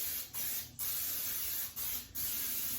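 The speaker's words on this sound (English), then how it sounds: "We are, of course, gonna spray this with some pan spray." Olive oil pan spray hisses into a baking pan over a sink in four short nearby bursts, each a second or less, separated by brief pauses.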